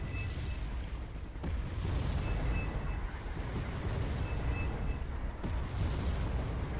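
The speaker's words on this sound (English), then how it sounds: "Now there I go again with the mortars, because we spotted these STRs trying to flank around." Mortar fire in Wargame: Red Dragon, with dense rolling booms and rumbling blasts that blend into a continuous heavy roar and a few sharper impacts standing out.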